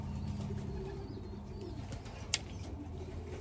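Racing pigeons coo softly amid a steady background hum, with a brief sharp click near the end; the cooing is low and muffled, no speech.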